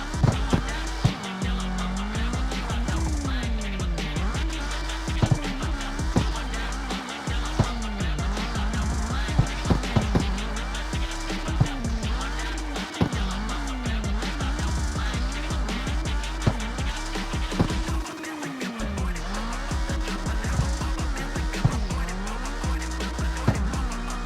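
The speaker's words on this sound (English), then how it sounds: "an all-wheel drive car that is really quick and can slide" An all-wheel-drive Gymkhana car in the CarX Street racing game drives with a steady engine drone and long, wavering tire squeals as it slides, continuous and loud throughout.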